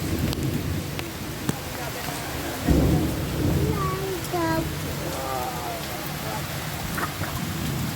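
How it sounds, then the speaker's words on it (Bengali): Heavy rain pours steadily with a deep roll of thunder midway, while birds chirp faintly and a person speaks over the downpour. "দেখো বন্ধুরা আমাদের এখানে কত বৃষ্টি হচ্ছে"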